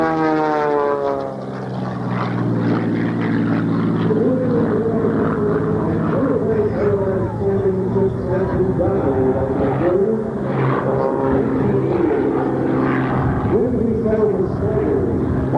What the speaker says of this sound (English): Beautiful aircraft, beautifully flying.